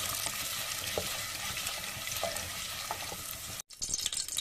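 Urad dal fries in a pan for a tomato and onion chutney, a continuous close sizzle with stirring scrapes, broken by a sudden brief silence near the end before the sizzle resumes.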